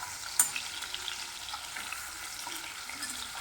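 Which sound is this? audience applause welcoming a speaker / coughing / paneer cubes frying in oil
paneer cubes frying in oil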